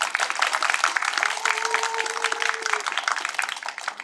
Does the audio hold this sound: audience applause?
yes